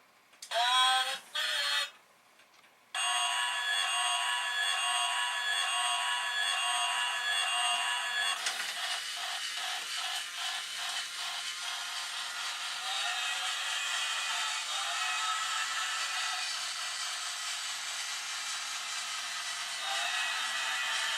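An old small train chugs and hisses with steam-like noise and whistle tones, steady and fairly loud after a few brief bursts at the start.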